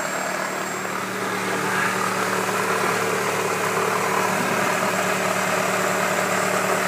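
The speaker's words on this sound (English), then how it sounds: "it sounds kind of like a thumping noise" Toyota Camry engine idling steadily with a low, continuous thumping from the power steering pump pulley rubbing its plastic cover, a constant drone with no talk.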